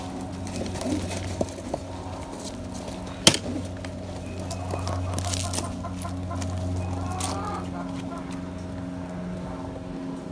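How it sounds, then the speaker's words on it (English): A hen clucks softly and intermittently among other birds cooing and chirping, with one sharp clack partway through and some faint background noise. "Young hen."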